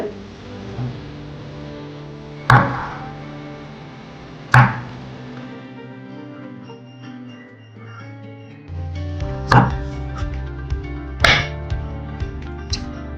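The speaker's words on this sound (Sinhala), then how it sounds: "දැන් අපිට තියෙන්නේ ඊළඟ ස්ටෙප් එකට දෙහි ගෙඩියක් කපා ගන්න ඕනේ. පොඩි ස්ලයිසස් වලට." A knife cuts a lime into small slices for an orange mojito, landing a few sharp chops on a board and then a quicker run of lighter cuts over a ringing background tone.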